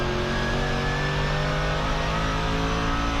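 Mercedes GT3 race car at the Nürburgring, heard from inside as a loud, steady engine drone with a rising tonal whine, constant and close throughout with no voices.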